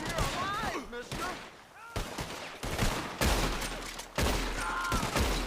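Gunfire in the video game Red Dead Redemption 2: a dense fusillade of rifle and pistol shots with heavy booming blasts, loud and continuous, mixed with shouted voices and battle noise.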